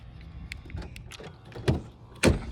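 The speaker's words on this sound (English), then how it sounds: "Gotta unlock the car." Unlock chirp and door clicks of a 2025 Infiniti QX80 loaner SUV, a few light mechanical clicks followed by two sharper latch and door-opening thuds close by, with no talk.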